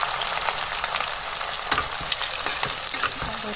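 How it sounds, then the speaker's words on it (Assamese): A large batch of chopped onions fries in hot oil for chicken curry, a continuous loud sizzle with occasional sharp crackles and scraping stirs, no voices. "এইখিনি ধুনীয়াকৈ ভাজি ল'ম।"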